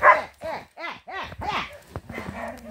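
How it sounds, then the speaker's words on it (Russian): A traumatized, aggressive dog at an animal shelter barks about six times in a row, each bark loud, close and sharp, separated by brief pauses. "Собака."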